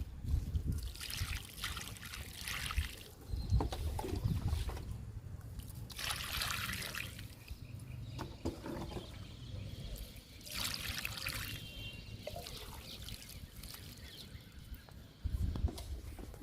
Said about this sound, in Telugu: అందుకని వాటర్ పోస్తున్నాను